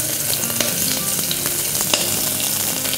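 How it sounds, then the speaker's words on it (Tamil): Chopped large onion sizzles and crackles steadily in hot ghee, with occasional scrapes and clinks of a spoon stirring the pan. "இது நல்லா சாஃப்டாக வதங்கி வரட்டும்."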